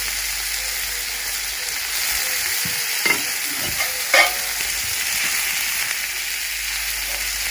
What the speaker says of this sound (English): Try and break it up as you're stirring.